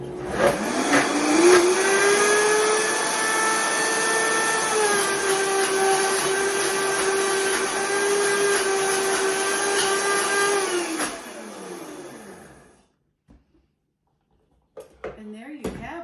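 Blender whirring steadily through a smooth avocado ice cream mixture, a loud sustained motor drone with harmonics that holds for about eleven seconds and then winds down to silence.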